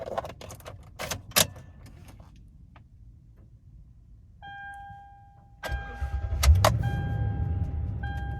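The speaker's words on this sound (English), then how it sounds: "Do a quick key cycle here for you." Keys jingle and click, then a chime starts, a 2013 Toyota Tundra SR5 TRD Off-Road 4x4 pickup's engine cranks and catches, and it settles into a running rumble while chimes continue.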